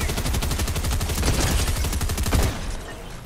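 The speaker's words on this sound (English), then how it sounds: "Shooting on our right." Rapid automatic gunfire from a video game shooter rattles in a steady, dense burst of evenly spaced shots lasting a few seconds, loud and close, then cuts off.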